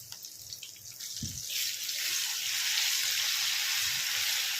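Ginger garlic paste frying in oil on a low flame for chicken pickle, starting with a soft crackle that swells into a steady, broad hiss.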